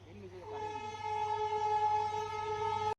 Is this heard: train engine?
yes